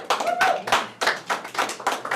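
A few people clap in rhythmic bursts at a talk on a Revolutionary War battle, close and crisp with brief pauses between groups of claps.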